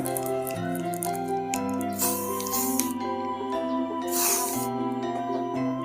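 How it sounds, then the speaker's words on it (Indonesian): Short hissing bursts from an aerosol spray of WD-40 onto a knife during cleaning, heard under steady background music with sustained tones. "Kita semprot pakai WD."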